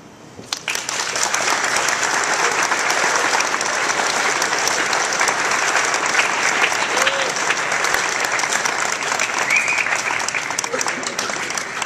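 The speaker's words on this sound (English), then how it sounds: "Y'all give her another round of applause." An audience applauds at the close of a motivational speech, a dense, sustained burst of clapping that swells quickly and holds steady for several seconds, filling the hall.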